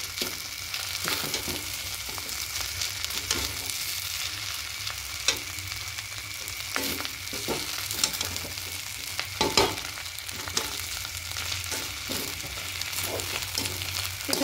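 Hilsa fish pulao fries in a pan and is stirred, giving a constant close sizzle broken by repeated scraping and clinking strokes of the spoon, with no voices.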